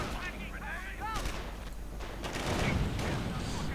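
Gunfire crackles in a World War II strategy video game, with sporadic distant shots and low booming rumbles over a busy battle ambience, while a commentator talks throughout.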